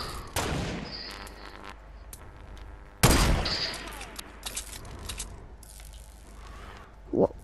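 Scattered Fortnite gunfire, a few separate shots with a loud crack about halfway through and lighter mechanical rattles between them, over quiet game ambience.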